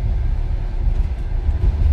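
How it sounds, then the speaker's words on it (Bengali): A Trans-Siberian Railway train running through forest, heard as a continuous low, loud rumble and rattle of the wagons with no voices. "দুপাশে জঙ্গলের মাঝখান দিয়ে ছুটে চলেছে ট্রেন।"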